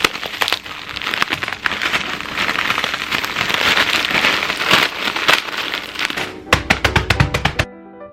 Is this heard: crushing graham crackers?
yes